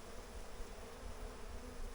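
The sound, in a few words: honey bees buzzing around a hive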